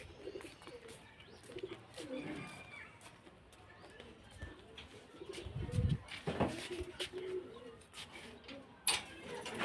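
Pigeons coo softly near an outdoor loft while grain is put out for them, with low, rounded calls repeating under nearby voices and some rustling.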